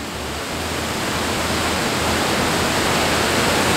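A waterfall roars as a steady, dense wash of rushing water, loud and unbroken throughout, with no voices.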